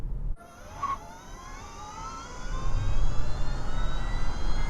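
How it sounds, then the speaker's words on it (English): A 2019 Hyundai Kona Electric accelerates hard in Sport mode, and a rising electric whine climbs steadily in pitch. Several layered tones sweep upward together while road rumble grows beneath them, and no one speaks. "when you put your foot down in the car, it makes a noise like a TIE fighter"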